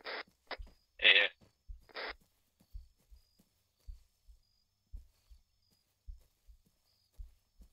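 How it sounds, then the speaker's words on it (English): Soft, muffled heartbeat thumps pulse steadily in a tactical video game, paired double beats repeating about once per second, with brief clicks and a short voice burst near the start. "I can hear heartbeat"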